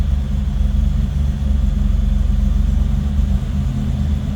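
A 1985 Buick Grand National engine idles steadily, a loud low rumble with an even pulsing throb held throughout, no voices.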